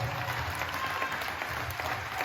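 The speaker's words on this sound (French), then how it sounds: "On applaudit bien fort Sarah Lacroix." Crowd applauding at a political meeting in Meaux, Seine-et-Marne, France: sustained, even clapping from many hands, filling the room at moderate loudness from start to finish.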